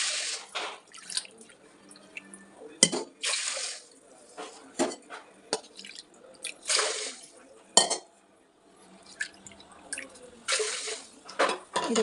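Water is poured onto horse gram in a pressure cooker in short, irregular splashy bursts with brief pauses between pours, close and fairly quiet.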